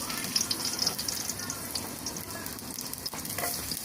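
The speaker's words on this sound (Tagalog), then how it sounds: "sinalang na natin ang kawali, lagyan na ng bawang" Garlic sizzling in a hot pan with oil, a steady crackling fry with light stirring clinks, close and continuous, with no talk.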